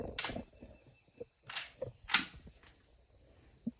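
A Beretta 1301 shotgun fires heavy loads, including a Remington 3-inch shell, producing a few sharp bursts, each followed by quieter rattles and clicks.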